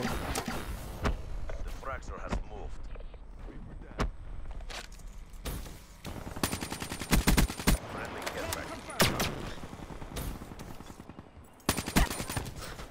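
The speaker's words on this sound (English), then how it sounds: "a lot of people seem to use LMGs in this game which really annoys me" Black Ops 3 multiplayer match with bursts of light machine gun fire, some close and sharp, others further off, alongside footsteps and mechanical noises and someone talking over it.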